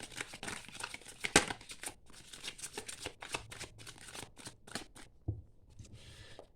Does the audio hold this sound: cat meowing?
no